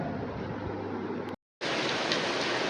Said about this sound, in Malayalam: ഇന്നിപ്പം നല്ല മഴ ഉണ്ട്